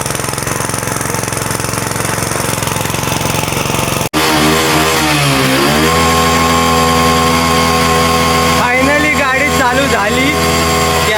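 A motorcycle engine idling steadily after its carburetor was cleaned, a loud continuous mechanical drone with a brief dropout near the start of the run, then rising revs and pitch shifts toward the end, with people talking over it.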